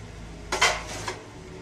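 Tom yum soup with soft egg is ladled into a dish, giving a short clatter of utensil against crockery in the middle of an otherwise quiet kitchen moment.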